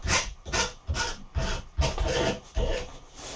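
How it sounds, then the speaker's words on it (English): Metal file rasping across the cut ends of an Anglepoise 1227 lamp arm tube to dress off hacksaw marks, seven or eight close, steady back-and-forth strokes in an even rhythm with no talking. "using a file, I'll just dress the ends off so there's no hacksaw marks"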